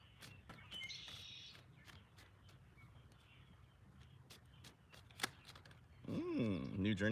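Tarot cards being shuffled in a quiet room, a run of soft crisp riffles and flicks that end in a louder rustle, with faint voices nearby.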